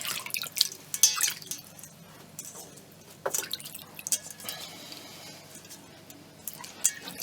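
Water drips and splashes while water-dissolvable film is washed out of sewn fabric. Irregular close drops and squishy splashes come with brief pauses, and faint clinks appear now and then.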